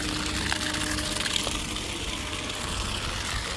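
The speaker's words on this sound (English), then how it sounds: "I was just putting the hose into one of the live wells with the bottom drain out, just to check for leaks" Water from a hose runs into the live well of a 16 ft aluminum boat, a steady, close rush and gush that holds constant throughout.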